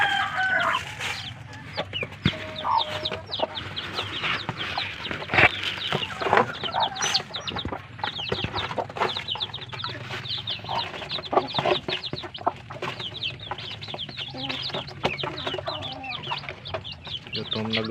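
Pet chicks kept in a cardboard carton, with dense, continuous high peeping and clucking all the way through, fairly close and steady, with a few short sharp knocks.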